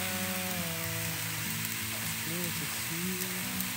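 Marbled chocolate crêpe sizzling steadily in a hot pan, a constant close frying hiss with a faint tonal hum underneath and no speech.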